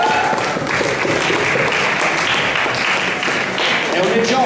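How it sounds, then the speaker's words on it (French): An audience at a poetry slam competition gives steady, dense applause, a continuous wash of many hands clapping that holds at an even loudness throughout, with some voices mixed in. "on t'applaudit quand même"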